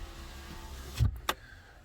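A VW Golf Mk6 power window motor runs briefly, a short whirring burst followed by a sharp click and a second brief pulse, close up in a quiet car interior.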